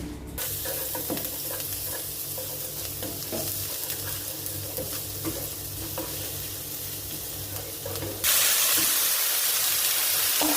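Chicken stir-fries with sliced bell pepper and onion in a hot pan: a constant close sizzle broken by scraping stirs and clatter, then a sudden louder burst of hissing steam near the end.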